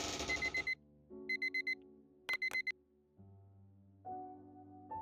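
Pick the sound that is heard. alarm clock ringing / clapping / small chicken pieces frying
alarm clock ringing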